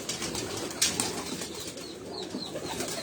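Breeder pigeons at a tournament beat their wings in a steady flutter close by, with one sharper burst of flapping and faint coos mixed in, and no talking.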